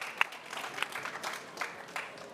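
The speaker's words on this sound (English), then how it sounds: "Big round of applause for them all." At a COP29 climate dialogue on livestock, the audience applauds the panelists with a steady patter of many claps at moderate distance and modest volume, with a few sharper individual claps standing out.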